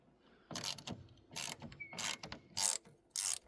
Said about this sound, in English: We're going to loosen this 10mm nut up.